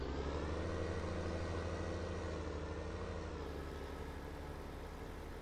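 Tractor engine in Farming Simulator 19 rumbling steadily and loudly throughout, a continuous low drone with no pauses and no voices.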